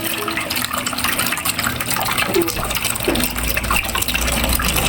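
Water gushes steadily into a container, a continuous close splashing rush with faint background voices.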